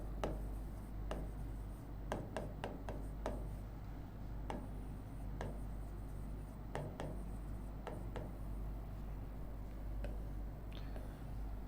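Topic heading written on paper or a board: quiet scratchy strokes with sharp taps as the pen touches down, irregular and close, over a low steady hum, no talking.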